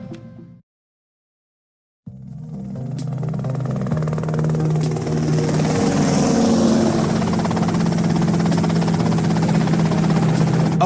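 A helicopter in the video game GTA Vice City starts after a brief silence and builds into a loud, steady rotor and engine drone that continues to the end.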